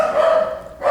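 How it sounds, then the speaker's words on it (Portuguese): Dogs bark close and loud, one sustained bark trailing off, then another starting at the end, with nobody talking. "Os meus cachorros poderiam parar de latir"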